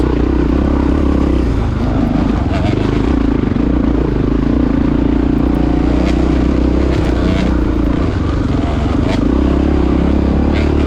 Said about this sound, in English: So the XR likes hill climbs.